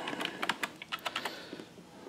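Fingers tap quickly on a computer keyboard, a close run of about a dozen light, crisp key clicks in an uneven rhythm, with no talking.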